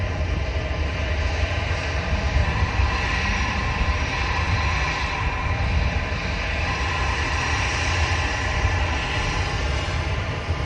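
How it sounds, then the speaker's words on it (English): An Emirates Airbus A380 taxiing at an airport, its jet engines giving a loud, steady roar and broadband rumble that holds constant throughout with no talk. "Emirates Airbus A380 now on the move."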